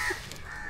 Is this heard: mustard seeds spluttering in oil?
no